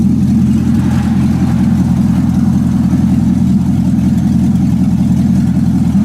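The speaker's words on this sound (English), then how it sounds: "So this is the car running. Sounds great." A Nissan 300ZX with a swapped-in LS V8 engine running with no exhaust fitted, a loud, steady, deep idle rumble that holds constant throughout, close to the car.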